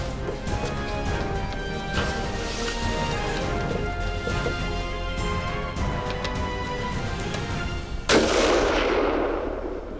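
A single loud gunshot rings out outdoors during a deer hunt, a sharp crack followed by a decaying echo, set against a steady background of rain-like rustle.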